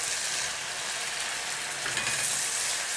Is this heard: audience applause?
no